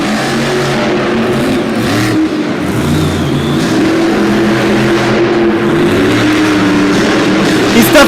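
A monster truck engine roars loudly and continuously as it revs during a wheelie at the end of a racing lane at a Monster Jam event in Syracuse, with arena noise and commentary voices under the engine.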